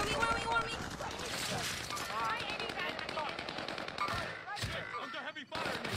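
Rapid automatic gunfire from the Call of Duty Warzone video game, loud and continuous bursts with explosive cracks throughout, mixed with in-game voice callouts and player talk.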